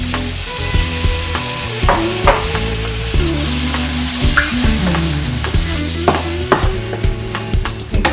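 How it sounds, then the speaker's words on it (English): Spicy shrimp pasta sauce sizzles and fries in a pan, a steady close crackle with occasional clinks and stirring knocks throughout. "Okay, so while our pasta sauce is cooking"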